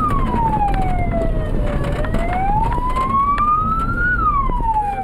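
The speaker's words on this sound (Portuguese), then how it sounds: "os motoristas ligam sirenes para alertar possíveis pedestres" Vehicle sirens in a funeral procession on a dark rural road in Bolivia, one loud, close wail rising and falling slowly and continuously over a low rumble of traffic.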